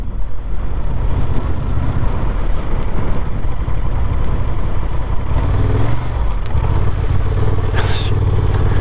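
A 2023 Honda XL750 Transalp A2 motorcycle rides along with a steady, loud engine drone and road rumble throughout, easing briefly near the end before a sharp high hiss.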